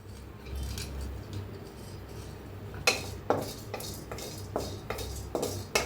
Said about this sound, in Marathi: आता लवंग भाजून घेऊया